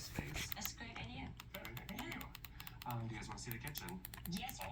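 A mouse-click style trigger on a gaming controller or gun-style peripheral with a short draw is clicked repeatedly in crisp, close taps, mixed with quiet speech.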